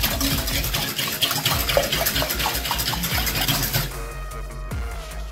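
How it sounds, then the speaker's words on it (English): Water, sugar and yeast whisked together in a bowl, giving a steady, busy scraping and sloshing rhythm up close for about four seconds before it drops off to quieter, sparse clinks. "we're going to whisk this. Whisk this to combine properly."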